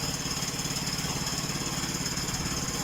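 A sawmill engine runs steadily while cutting timber on a homestead, a loud continuous droning hum with a pulsing low rumble that holds through the whole stretch, with no voices over it.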